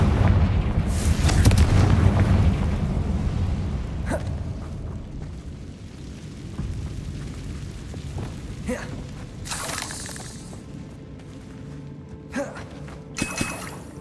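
Fiery explosion spells cast in Hogwarts Legacy, a heavy rumbling blast at the start that fades into a long low roar, then several sharp crackling bursts and impacts near the end, with game effects throughout.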